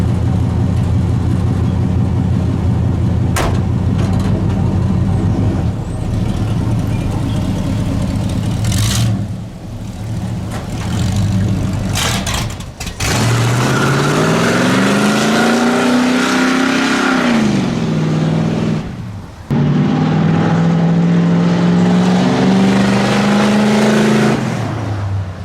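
A budget-build Chevrolet C10 truck engine idles loudly, then revs up and down repeatedly during a muffler exhaust test, with rising and falling pitch sweeps, a brief drop-off midway and throaty exhaust roar close by.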